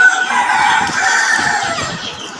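Loud, continuous crowing and clucking from a crowd of native country chickens and a rooster in a coop, close by and overlapping with no pause.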